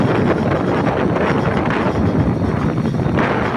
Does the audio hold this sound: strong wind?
yes